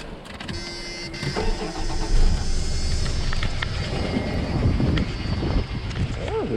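A car at a salvage auction lot starts up and settles into a rough, steady idle close by, with people talking over the engine noise.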